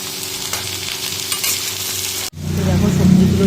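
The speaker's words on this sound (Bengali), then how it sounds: "ভালো করে নেড়ে চেড়ে সবজিগুলো ভালো করে কষিয়ে" Vegetables sizzle steadily in a hot wok while a utensil scrapes and stirs them, with a brief pause before the frying surges back louder.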